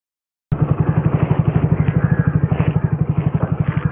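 A motorcycle engine on a solo ride springs to life suddenly after a brief silence, then chugs in a fast, steady, close-up rhythm of thumping beats.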